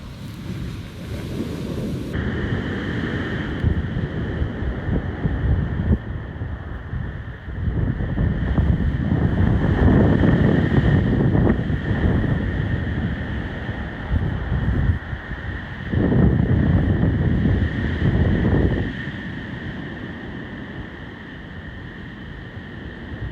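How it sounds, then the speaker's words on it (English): Winter surf pounds a famous beach under strong, gusting wind that buffets the microphone, with waves surging and breaking in loud swells that rise and ease throughout, no voices heard. "the surf here at our famous beach is quite spectacular today"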